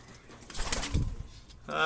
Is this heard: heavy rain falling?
no